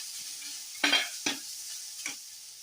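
Crushed coconut frying with mustard seeds and two dried chillies in a pan, a steady close sizzle broken by three sharp stirring scrapes, no voices.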